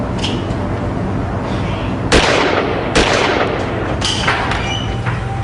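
Sharp, loud gunshots, three of them spaced about a second apart, fired at a locked wooden door, each a sudden blast with a ringing tail over steady background noise and no talking.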